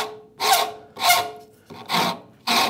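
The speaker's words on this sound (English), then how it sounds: "This is called a Shinto rasp." A Shinto rasp on its coarse side files a wooden saw handle in four separate strokes, each a close, loud scratching rasp with short pauses between.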